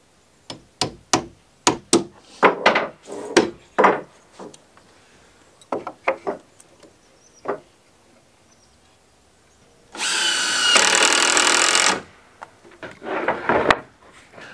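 Wooden stair stringers are mounted with anchor bolts on a homestead build: a series of sharp knocks and taps, then a steady two-second power drill run, followed by more knocks, all close and with no talk.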